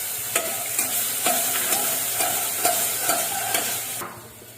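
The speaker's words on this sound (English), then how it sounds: "add the ginger garlic paste. Then saute." Ginger garlic paste sautés in a hot pan with a steady bright sizzle, while a spoon stirs it in regular scraping strokes roughly every half second, close and continuous until the frying quietens near the end.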